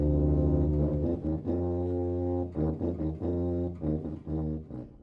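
A tuba plays a slow, low, sustained phrase of separate notes, deep and resonant, with no voices.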